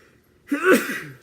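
A single sharp sneeze erupts after a moment of near silence, loud and close, trailing off into a brief breathy release.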